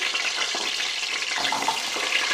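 Onions frying in hot oil for Andhra-style sambar, a dense continuous hiss and sizzle that stays loud and even throughout, heard up close.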